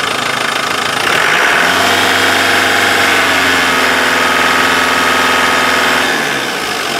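A Land Rover 200Tdi diesel engine revs up from a loud clattering idle and holds at a higher, steady pitch for several seconds before dropping back down. The sound is close and loud, with no talking.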